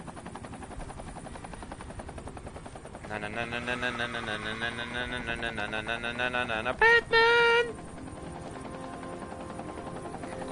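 A helicopter hovers in Batman: Arkham Knight, its rotor making a steady, buzzing whir throughout. Loud tonal game sounds swell over it midway, and a voice shouts briefly.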